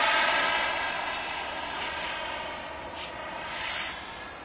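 A 6 kg turbine-powered foam model jet in flight, a steady high turbine whine with a broad roar that stays level and drifts slightly as it passes, no voices.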